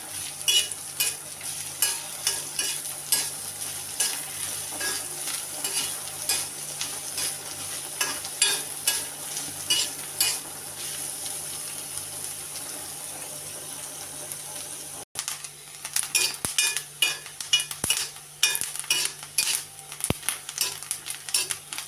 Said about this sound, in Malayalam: നമുക്ക് തേങ്ങ മൂപ്പിച്ച് നമ്മൾ എടുക്കുള്ളൂ